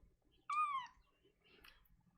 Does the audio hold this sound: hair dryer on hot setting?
no